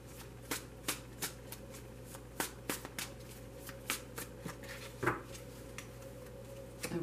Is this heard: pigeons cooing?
no